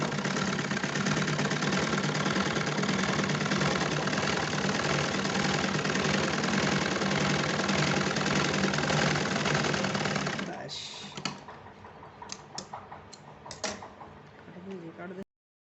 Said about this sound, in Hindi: इस पर कई सिलाई लगा लेनी है ताकि ये मजबूती से जुड़ जाए।